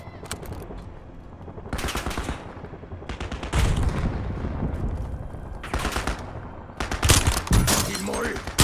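Bursts of automatic gunfire and sharp shots crackle through a Call of Duty match, coming in repeated clusters with brief pauses between, with voices heard underneath.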